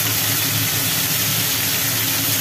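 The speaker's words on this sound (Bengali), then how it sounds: "লোটে মাছগুলো পড়ে গেল তেলের ওপরে। এটাকে সম্ভবত একটু হালকা করে ভাজা হবে" Bombay duck (lote) fish, coated in turmeric, dropping into hot oil and frying lightly, giving a steady, loud, broadband hiss with a dense crackle running throughout and no voices.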